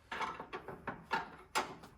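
A wrench working a nut on an SN95 Cobra, heard close up as a quick string of five or six short metallic ratcheting clicks and scrapes in separate bursts, with no talking.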